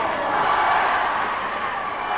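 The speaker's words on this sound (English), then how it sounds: "the Flyers crowd, there's a lot of them here at Dundee Ice Rink who have made the journey up. Giving voice here, getting behind their lads" A travelling Fife Flyers crowd roars steadily at Dundee Ice Rink during a 1985 Scottish Cup ice hockey game against Glasgow Dynamos, producing a loud, continuous wash of cheering with no breaks.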